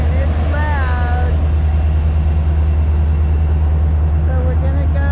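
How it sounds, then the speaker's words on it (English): Loud continuous rumble of a passing train in a small Kansas town, a heavy low drone with intermittent high squeals, and a person's voice heard over it. "There's the train and it's loud."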